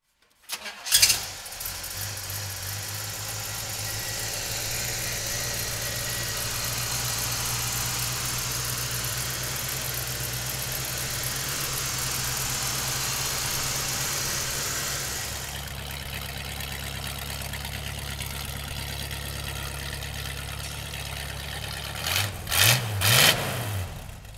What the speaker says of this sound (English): So come on up, we'll fire it up for you right now.